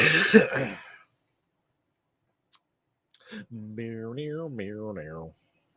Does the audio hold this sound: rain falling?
no